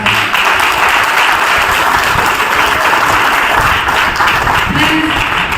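Sustained audience applause for a team at a network marketing event, steady dense clapping filling the whole stretch at close range with no pauses.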